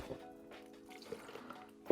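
Liquid poured into the cup of a Graco HVLP spray gun during cleaning after Zinsser BIN shellac primer, a soft close trickle and splash with faint knocks and a sharper bump at the end.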